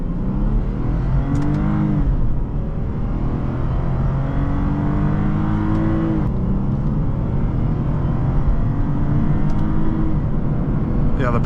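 A 2006 Lexus IS250 accelerates during a test drive, its engine note climbing steadily under constant road and cabin noise, with people talking over it.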